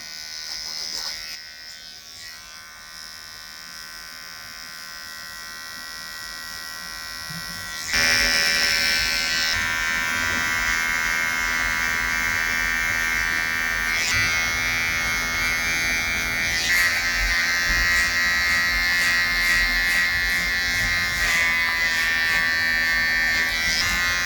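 Electric hair clippers tapering the side of a man's hair buzz steadily at close range, humming quietly at first and then louder and brighter as they touch the hair, running continuously throughout.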